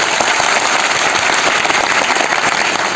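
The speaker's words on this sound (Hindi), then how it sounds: "मैं चाहूंगा एक बार जोरदार ताली उनकी भी हो जाए" Loud, continuous audience applause fills the whole span, dense and steady with no talk over it, as a crowd claps at a motivational talk.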